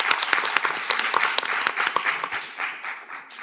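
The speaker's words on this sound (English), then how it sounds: "So let's give an applause to our panelists" A conference audience applauds the panelists at the end of a session, a dense burst of many hands clapping close and loud, thinning slightly toward the end, with no voices over it.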